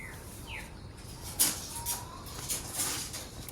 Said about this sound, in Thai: มันมีนกอยู่บนหลังคานะ